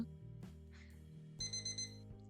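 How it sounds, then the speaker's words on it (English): An alarm clock goes off in a cafe, a steady electronic tone pattern that shifts pitch and then pulses in short repeated beeps, fairly clear with no talk over it. "that's my alarm."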